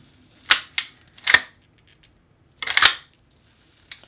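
Carbine lever-action rifle with a tube magazine, its lever worked by hand: a handful of sharp, close metallic clacks and clicks in uneven groups, separated by quiet pauses.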